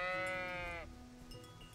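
A sheep in the medieval video game Kingdom Come: Deliverance gives one clear, wavering bleat close by, which fades into quiet outdoor ambience.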